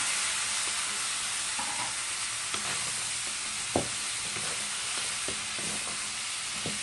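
Squash (kalabasa) frying in a pan, a steady, close sizzle throughout with a few soft knocks and clatters of the pan breaking through.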